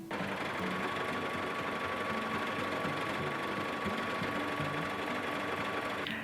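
A sewing machine runs continuously, stitching a samba-style legging, with an even, rapid mechanical whir and buzz close by from start to finish.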